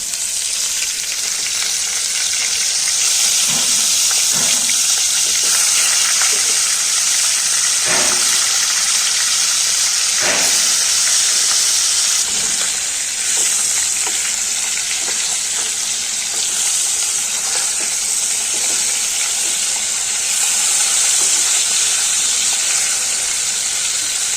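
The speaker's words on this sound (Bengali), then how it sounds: "কড়াতে তেল দিয়ে দিলাম, অনেকটাই দিলাম। বন্ধুরা, তেল গরম হয়ে গেছে, এবারে মাছগুলো একে একে দেবো।" Fish pieces frying in a generous amount of hot oil in a kadai, a loud continuous sizzle with scattered pops and crackles throughout, no speech.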